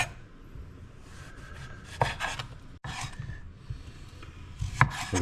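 A knife slicing yellow squash into long angled pieces on a board, giving soft repeated cuts with a few sharper taps, close and quiet with no talking.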